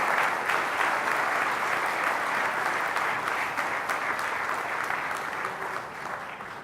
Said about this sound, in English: please give a big round of applause one more time for all